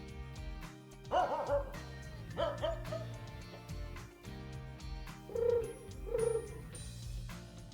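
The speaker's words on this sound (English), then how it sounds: "now the cat has sound effects" A cat sound effect in an animated show plays as several separate meow-like cries with short pauses between them, set over background music.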